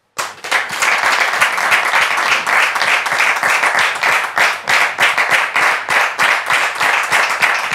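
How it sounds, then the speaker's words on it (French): Applause from a French television talk-show studio audience, many hands clapping steadily and loudly for several seconds as a guest is welcomed, dense and close with no talking. "sous vos applaudissements, la sœur Rose"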